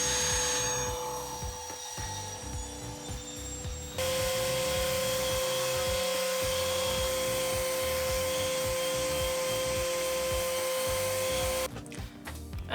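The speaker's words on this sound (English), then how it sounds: "Now I'm just cutting a piece of wood that will cover up all the wires and the LEDs." Power tool cutting a piece of wood to cover the wires and LED strips of a desk light, a loud, continuous high whine with a rough, grinding texture that shifts pitch partway through and stops near the end.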